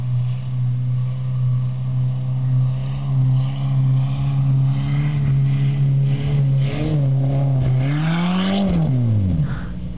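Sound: car driving up a hill in a field

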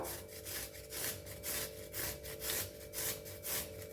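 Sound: grating carrot on a small hand grater

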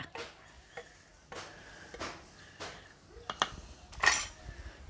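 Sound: adding lamb head brain into the curry pot

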